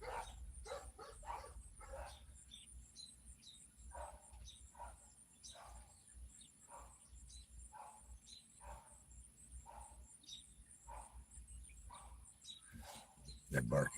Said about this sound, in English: They're barking because somebody's walking by.